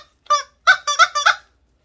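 A squeaky rubber chicken pet toy gives a single honking squeak followed by a quick run of three or four more, loud and close in an otherwise quiet room.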